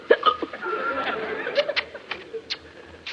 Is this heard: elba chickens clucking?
no